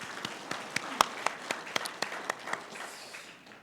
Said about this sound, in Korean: 영광의 박수 함께 올리겠습니다.